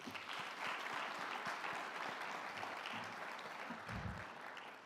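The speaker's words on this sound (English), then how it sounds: "I want to give them a round of applause." Audience at a community briefing on gun violence applauds local volunteers, with dense, steady crowd clapping heard at moderate distance and a few louder nearby claps and murmurs toward the end.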